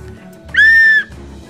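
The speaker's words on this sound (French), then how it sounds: "Et le jouet est un sifflet." A single shrill blast from a toy whistle, bright and steady, lasts about half a second over a quiet background with faint low hum.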